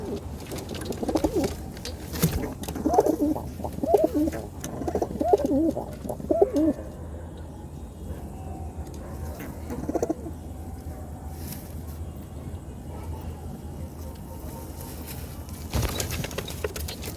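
Domestic pigeons being treated for diarrhoea coo in soft, low bursts through the first seven seconds, with a brief call again near ten seconds, then quieter room background with occasional faint rustles.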